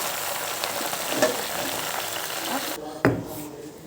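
Gongura leaves frying in about three spoons of oil, giving a steady close sizzle, with a couple of sharp utensil knocks and a quieter stretch near the end.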